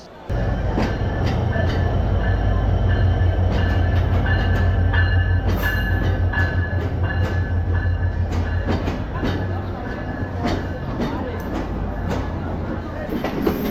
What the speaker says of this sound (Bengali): আমাদের ট্রেন রূপসী বাংলা এক্সপ্রেস যশোর জংশন থেকে ছেড়ে যাচ্ছে